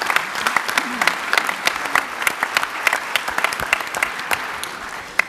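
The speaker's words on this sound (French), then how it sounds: "On peut applaudir Stéphanie" A small audience at a French civic council event applauds a speaker, with distinct, separate claps in a lively irregular rhythm and some voices murmuring underneath.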